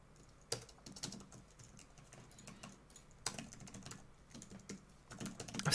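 Steady typing on a computer keyboard while coding a game, with irregular clusters of key clicks and a few louder keystrokes, close and alone with no talking.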